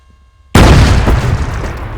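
A sudden loud explosion from the IFA3WarMod for Arma 3 bursts after a quiet moment, then a heavy rumbling roar that slowly fades over the following seconds.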